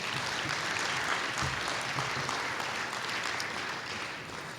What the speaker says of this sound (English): I wouldn't mind it if you gave Tammy a round of applause